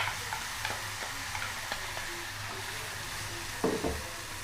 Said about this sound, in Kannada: ಎಣ್ಣೆ ಕಾದ ನಂತರ ಸಾಸಿವೆ, ಈ ಕರಿಬೇವು, ಆನಂತರ ಈಗ ನಾವು ಮಾಡಿಟ್ಕೊಂಡಿದ್ದೀವಲ್ಲ ಈ ಮಿಶ್ರಣ, ಅದನ್ನು ಹಾಕ್ಕೊಳ್ಳೋಣ ನೀಟಾಗಿ